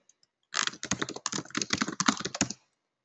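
Rapid typing on a computer keyboard during a software workshop, about two seconds of close, steady keystrokes with no talking.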